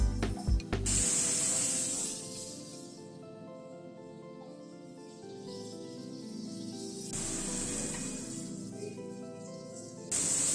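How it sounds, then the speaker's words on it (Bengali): Pointed gourd pieces fry in a pan with salt and turmeric, giving a steady hiss and sizzle that swells and eases over about ten seconds, with a few brief clatters near the start and no voices. "নুন হলুদ দিয়ে পটলটাকে আগে একটু ভেজে নিচ্ছি"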